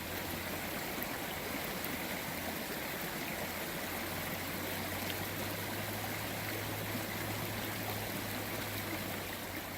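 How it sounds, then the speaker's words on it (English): Creek water flowing steadily along the Profile Trail in Pisgah National Forest, a continuous close rushing and trickling wash with a faint low hum beneath and no voices. "you can admire the beauty of the creeks"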